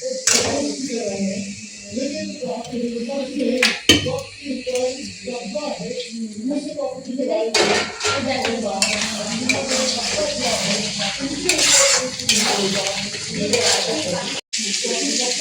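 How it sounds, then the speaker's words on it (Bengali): Fried potatoes are stirred into spice masala in a pan in a Bengali home kitchen, giving a steady sizzle with intermittent scraping and clinks of a utensil on the pan. A voice talks over it. "এই যে মশলা ভালো মতন ভাজা হয়ে গেছে, এখন এর ভিতরে দিয়ে দেবো এই যে ভেজে রাখছিলাম আলু, আলু দিয়ে দেবো"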